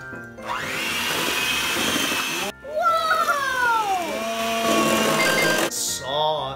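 An electric mixer whirs through cookie dough during kids' Christmas cookie baking, a steady motor whine that shifts pitch, cuts out briefly midway, then resumes, with voices near the end.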